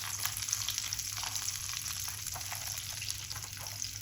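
Chicken pieces frying in a pan over low heat give a steady, even sizzle with soft crackle throughout, close and alone.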